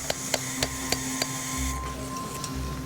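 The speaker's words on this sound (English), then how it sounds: "when you're using a hammer and a chisel, if you like, around very sensitive nerve endings" A surgical hammer strikes a chisel against spinal bone during spine surgery, five sharp, evenly spaced metallic taps over a steady operating-room hum.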